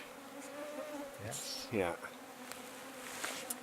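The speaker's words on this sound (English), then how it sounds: "they're buzzing around you just the same, man" Bugs buzzing around people outdoors, faint whining flybys under a quiet background, with one louder close pass sweeping by in the middle and a person speaking briefly.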